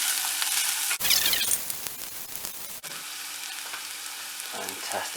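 Onions soften in a pan with a steady, crackling sizzle close by. A brief burst of stirring breaks in early on, then the frying settles back to a continuous hiss with a few soft clicks.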